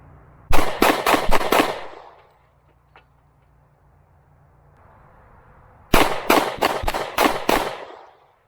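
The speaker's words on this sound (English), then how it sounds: "So we're going to go ahead and mag dump it." A Springfield XDS .40 pistol emptying its magazine in rapid fire, two loud close bursts of about five to six sharp shots each, separated by several seconds of quiet.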